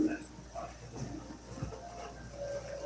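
A small dog whimpers and yips in short, thin bursts that come and go, fairly faint against a steady background hum and room noise.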